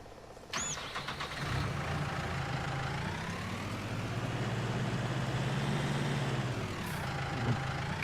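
A small tractor engine in a farming simulator game cranks and catches, then settles into a steady running drone that rises and falls slightly, close and moderately loud with no talk.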